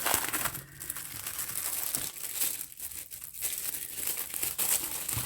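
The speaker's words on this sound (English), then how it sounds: "Again, crackling a paper." Paper packaging around a new planner crinkles and crackles continuously up close, loud and dense with brief tearing-like bursts, no voices over it.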